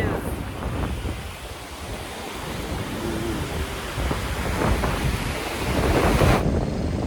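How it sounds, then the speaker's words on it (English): Ocean waves breaking at Virginia Beach, a continuous broadband roar of surf mixed with wind buffeting the microphone, swelling slightly louder toward the end. "The waves."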